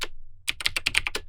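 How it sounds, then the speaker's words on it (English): Quick keystrokes on a computer keyboard while typing into a terminal window: one tap, a short pause, then a rapid run of about eight crisp, close clicks. "we're going to type in the terminal window that we opened just now"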